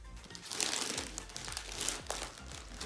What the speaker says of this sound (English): Rip it open, dude. You gotta tear it open.